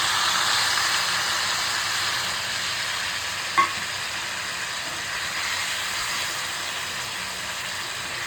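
Marinated fish sizzles steadily in hot mustard oil with black cumin and slit green chillies, a constant close frying hiss broken by one small clink partway through.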